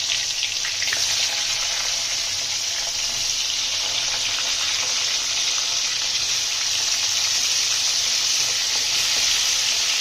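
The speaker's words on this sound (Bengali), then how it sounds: "আমরা এঁচড়গুলো একটু ভাজা করে দিই।" Jackfruit pieces fry in hot oil with a steady, close sizzle that holds without a break, and there is no talking.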